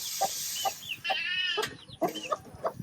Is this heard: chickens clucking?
yes